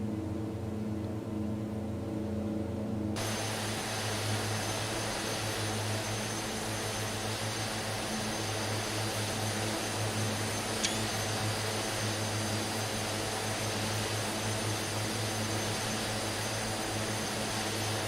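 Steady, loud drone of de Havilland DHC-6-100 Twin Otter propeller engines in flight inside a flight simulator, droning continuously with a constant hum and no talk.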